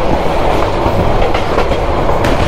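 Teesta Express passenger train rolling along the rails as it slows, a steady loud rumble of wheels with faint clickety-clack from joints, heard close from on board without talk.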